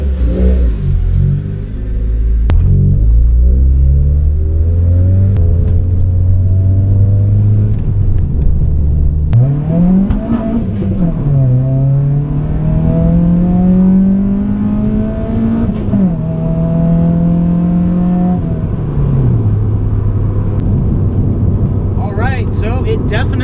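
An Acura RSX with freshly repaired exhaust and a properly connected downpipe pulls away, its four-cylinder rising and falling through several gears with rasping revs, heard from the cabin while someone talks over it.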